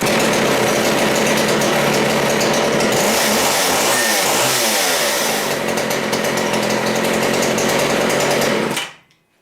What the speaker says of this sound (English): I think I've got this chainsaw dialed in pretty good. I'm going to go ahead and start it.